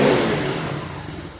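Bullit Heritage 125cc monkey bike engine running at idle, a steady close mid-pitched putter that eases slightly in level, with no talk over it.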